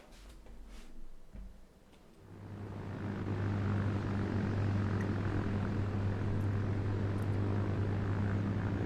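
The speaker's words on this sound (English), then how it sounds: "We got the classic C-47s flying over." Propeller drone of C-47 transport planes flying over in the Brothers in Arms World War II game, a low steady engine hum that swells after a couple of seconds and holds loud and sustained.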